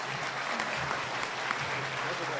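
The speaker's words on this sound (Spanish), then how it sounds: "fuerte el aplauso para el doctor Ricardo Cox" A seated audience at a tourism conference breaks into applause, a soft, even wash of clapping heard from a distance with a faint murmur underneath.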